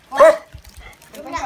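A dog barks once sharply and close at a Nùng Then ceremony in Tràng Các, Văn Quan, Lạng Sơn, followed by a softer yelp, with a person speaking nearby.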